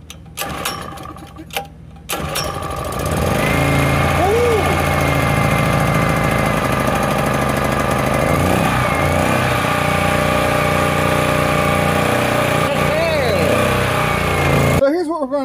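A salvaged dumpster-find generator engine pulls into a steady, loud idle after a few seconds of quieter sputtering, holding a constant drone with slight pitch wobbles throughout.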